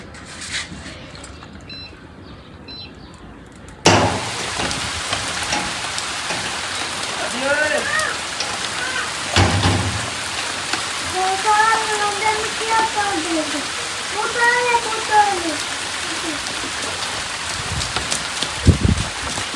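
Rain patters steadily on a surface after starting abruptly, with a voice speaking intermittently over the downpour and a few sharp knocks.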